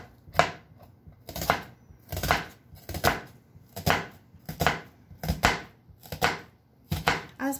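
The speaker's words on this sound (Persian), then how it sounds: "پیاز و سیری که ما داخل این سوپ استفاده میکنیم بعد کامل ریز ریز خورد بشه" A knife finely chops onion and garlic for pumpkin soup with a steady, evenly spaced rhythm of crisp, close knocks on a cutting board.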